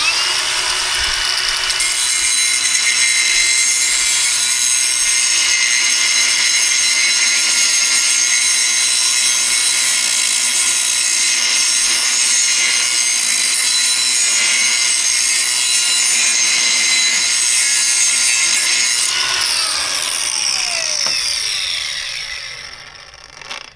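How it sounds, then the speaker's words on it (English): A DCA angle grinder cuts metal with a loud, continuous high-pitched whine and grinding screech that holds steady for about twenty seconds before spinning down. "Everything I'd want an angle grinder to be."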